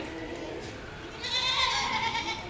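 A goat bleats at a crowded livestock market, its clear wavering calls rising over the constant murmur of the market crowd from about the middle of the clip onward.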